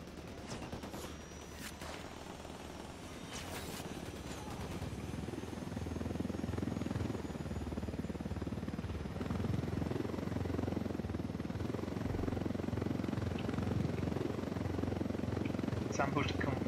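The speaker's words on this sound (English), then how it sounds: "We got a good chopper with a lot of machine guns." Helicopter armed with machine guns flying in the video game Ghost Recon Wildlands, a constant rotor drone with scattered gunfire bursts early on, heard under a voice talking.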